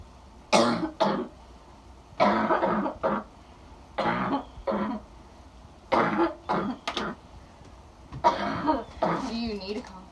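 Someone coughs and clears their throat repeatedly in short bursts, about eight separate fits spaced across the stretch, close and fairly loud with quiet gaps between.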